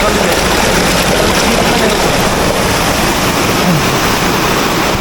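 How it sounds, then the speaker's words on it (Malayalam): Water rushes through a stone fountain channel at Villa d'Este in Tivoli, Italy, as a loud, constant, close roar with no break. "ഈ വെള്ളം ഇതിൻ്റെ അടിയിട്ട് തന്നെ പോകണ്ടേ കണ്ടോ. ഈ വെള്ളം ഇതിൽ തന്നെയാണ് പോകുന്നത്."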